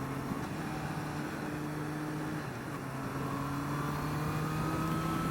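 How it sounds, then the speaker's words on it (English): A 2024 Honda CBR650R motorcycle with E-Clutch downshifts through the gears without the clutch lever: a steady, close engine drone that dips in pitch and climbs again, continuous for about five seconds with no talking. "We're just going to kind of downshift through the gears here."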